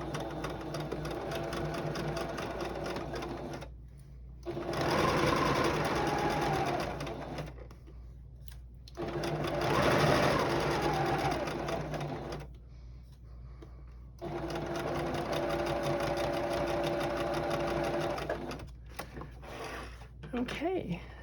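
A sewing machine stitches a quarter inch seam on quilt fabric for a star block. It runs in three long bursts of rapid, steady whirring, and each burst is separated by a short pause.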